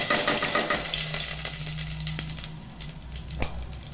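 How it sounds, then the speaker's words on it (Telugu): Mustard seeds, cumin and chana dal crackle in hot oil, a busy sizzle with scattered pops and spatters, close and steady, with a faint low hum underneath. "ఆయిల్ కొంచెం వేడైనాక మంచిగా పోపు గింజలు వేసుకోవాలి."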